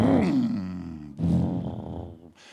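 A voice imitates a roaring engine with two loud, growling vocal bursts, the second slightly shorter, close and clear.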